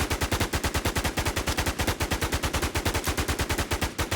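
Automatic gunfire from a video game gun fired with a shooting macro sounds as a rapid, perfectly even stream of loud, close shots lasting the whole stretch, with no voices.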